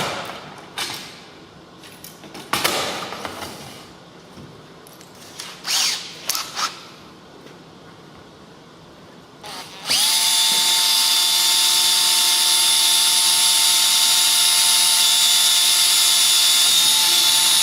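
Scattered handling noises and clicks, then a power drill starts and runs steadily at high speed, loud and continuous until the end.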